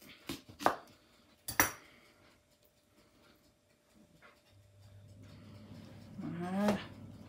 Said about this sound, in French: c'est la mandoline pour quelques tranches